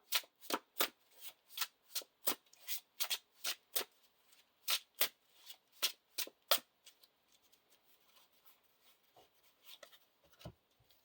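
A deck of Lord of the Rings card game cards is riffled and shuffled in a rapid series of crisp, close bursts that fade into softer handling toward the end.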